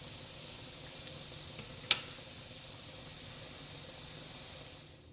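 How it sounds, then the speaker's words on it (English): Salmon cakes sizzle softly and steadily in a hot pan, a constant frying hiss with a few tiny pops. "I'm going to continue frying these until they are cooked"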